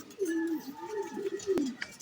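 Racing pigeons arriving at the loft after a 131 km race coo in soft, throaty rolling calls, close and moderately loud, with a sharp click near the end.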